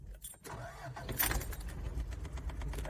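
A 1990 Toyota 4Runner with a 22RE engine and 250K miles catches again after stalling, its rough, uneven engine noise building to a steady low rumble with a few sharp clicks, loud and close.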